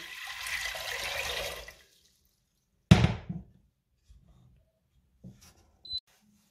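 About 1.5 litres of water poured into a cooking pot for Moroccan harira, a short rushing pour that stops, followed by a sharp knock and a few faint clinks and taps in a quiet room.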